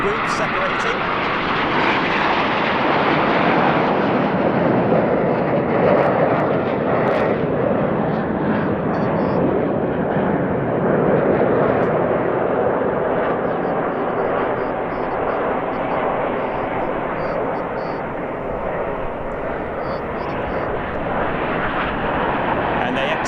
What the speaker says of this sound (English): Simultaneous aileron rolls there from the aircraft on the outside of the formation, and now the 2 groups separating.